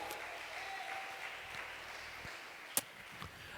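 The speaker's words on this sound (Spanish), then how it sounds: "Dale un aplauso a Jesús." A church congregation claps together in a soft, steady patter, moderately distant and fairly quiet, with a single sharp louder clap near the end.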